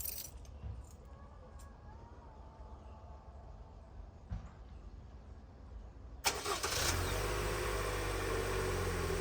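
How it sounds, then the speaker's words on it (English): A 2022 Toyota RAV4 cranks and catches on remote start about two-thirds through, then settles into a steady, fairly loud idle after quiet background hum. "And it has started."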